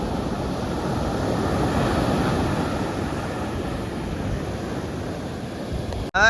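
Large sea waves crash and wash continuously close by on a calm, windless day, a steady broadband roar of surf that cuts off abruptly near the end.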